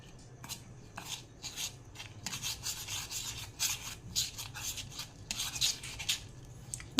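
Soft, steady scraping and rubbing of a spoon stirring biscuit cake batter with milk in a bowl, close and quiet, continuous strokes without speech.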